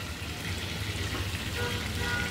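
Mustard seeds sizzle and fry in hot Amul butter in a pan, a steady dense crackling hiss that stays close and fairly loud throughout with no talking.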